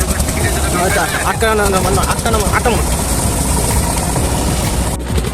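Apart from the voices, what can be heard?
boat engine running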